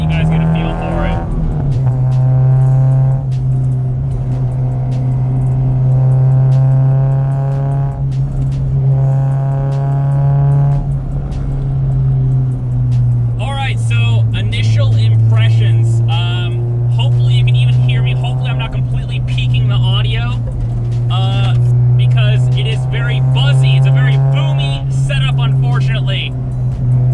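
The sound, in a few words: Honda Civic Si FA5 with Skunk2 header and 3-inch exhaust driving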